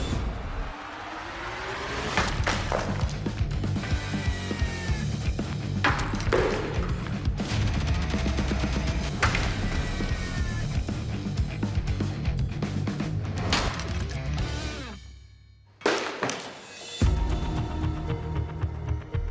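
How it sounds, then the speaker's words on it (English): A forged blade chopping into clay pots and a horse skull, a dense run of loud, repeated impacts, cracks and crunching debris at close range, briefly pausing before a few final heavy strikes. "I'll be chopping into the pots and into this horse skull"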